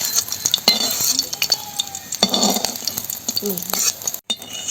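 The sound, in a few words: paneer frying in mustard oil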